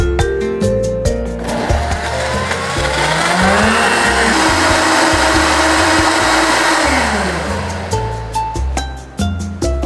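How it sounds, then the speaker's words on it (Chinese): A countertop blender loudly whirs a blend of cut pieces with soy sauce, fructose, gochujang and white sesame into a barbecue sauce. The motor runs steadily for about ten seconds, its pitch shifting as the contents churn, with no talking. "切完块之后就把它放到调理杯，再放入酱油、果糖、韩式辣酱、白芝麻，盖上盖子，按下按钮。"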